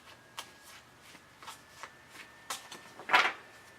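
A tarot card deck is shuffled by hand in quiet, soft papery riffles and taps at an irregular rhythm, ending in a brief louder flurry of cards, close and faint, with no talking.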